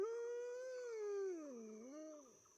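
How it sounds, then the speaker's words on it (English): A long, wolf-like howl echoing from a jungle canopy, a single sustained wavering cry that slides down in pitch and wobbles before fading, heard alone and somewhat distant. "Then another howl is heard echoing from somewhere in the canopy"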